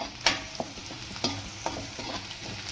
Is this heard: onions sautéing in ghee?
yes